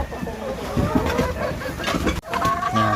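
Free-range chickens clucking and squawking together at feeding time, a busy, close cluster of calls with a voice speaking over them.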